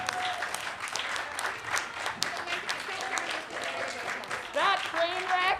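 Audience applause and cheering at the close of a live improv comedy show, a steady sustained clapping crowd with a few voices calling out near the end.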